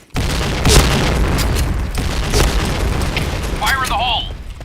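Grenade blast in the shooter game Point Blank, a loud sustained boom-like rumble running under continuous voice chat, with other game effects toward the end.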